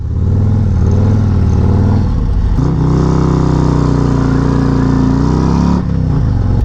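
A Harley-Davidson motorcycle pulls uphill, its engine loud and close with a steady throb that rises in pitch as it accelerates, shifts near the middle and keeps climbing, with no voices over it.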